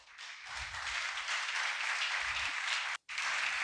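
A congregation at a church sermon breaks into sustained applause, a dense even wash of many hands clapping at moderate distance, with a brief dropout near the end.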